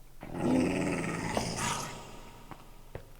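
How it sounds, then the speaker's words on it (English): A Minecraft dog growls low and rumbling for about two seconds, followed by a couple of faint short sounds. "Must be my dog's barking."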